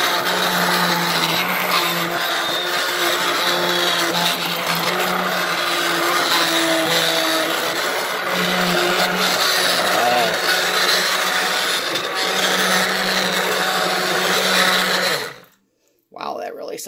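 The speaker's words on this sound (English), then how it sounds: "I have a new immersion blender. I'm so excited. I'm ready to use it." An immersion blender on its slow setting whirs steadily at a low hum for about fifteen seconds in apple butter, close and loud, then cuts off abruptly before a brief restart.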